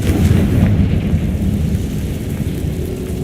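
A Confringo fire spell explodes in Hogwarts Legacy, a loud, dense rumbling blast that fills the whole moment with a sustained, thunder-like roar and no talk.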